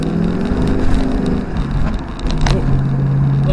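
A 2002 Ford Mustang GT with a 4.6 liter V8 and a 5-speed manual on wet roads: a loud, close, steady engine drone with a slight dip in pitch, rumbling throughout.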